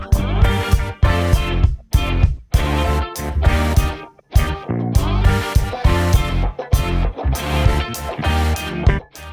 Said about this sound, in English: you can also add kicks in between your hi-hats